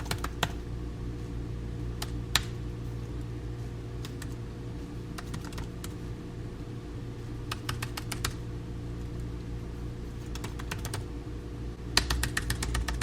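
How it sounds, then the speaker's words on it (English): Computer keyboard keys clack in short irregular bursts with pauses between them, close and fairly quiet over a steady low hum. "I put my hands to the keyboard"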